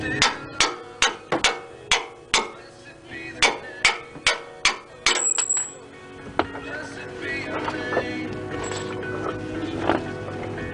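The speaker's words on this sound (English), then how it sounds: "I'm going to use a punch. I'm going to use a hammer. And again, I'm just going to hit it here so I can drive this bolt out." A hammer strikes a metal punch to drive a bolt out of a Toyota Sequoia or Tundra front shock and strut assembly, about a dozen sharp ringing blows in steady rhythm, then clanks and rattles of metal parts.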